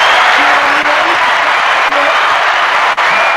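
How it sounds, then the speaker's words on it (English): Steady applause from a crowd, dense continuous clapping with a few faint voices or tones mixed in, holding at the same level throughout. "Don't cut off the applause for mom."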